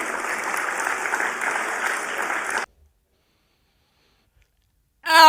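Audience applause at a political speech, steady dense clapping for about two and a half seconds that cuts off abruptly into silence, with a brief loud burst of another sound returning at the very end.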